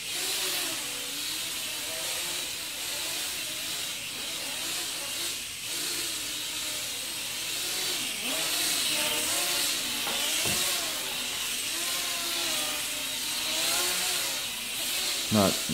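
A Moontop MT9916 quadcopter flies on high rate, its motors giving a steady high-pitched whine with wavering tones that rise and fall as it maneuvers, close and continuous, with faint voices in the background.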